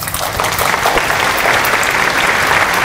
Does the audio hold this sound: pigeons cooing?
no